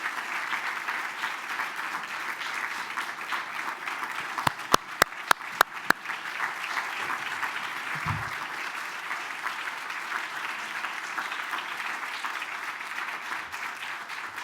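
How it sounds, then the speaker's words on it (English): An audience at a Veterans Day recognition ceremony applauds steadily for the whole stretch, a dense, even wash of clapping with a few sharper individual claps standing out near the middle. "I'd like you to give him a great round of applause"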